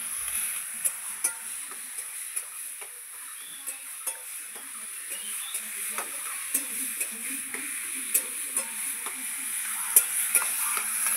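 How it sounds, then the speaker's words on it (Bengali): Hilsa fish head cooks with taro leaves in a pan, a soft sizzle under regular sharp clicks and taps as a utensil stirs against the pan at a steady pace. "এবার আমি এটাকে নাড়তে থাকবো যতক্ষণ না এটা ভালো করে মিশে যাচ্ছে"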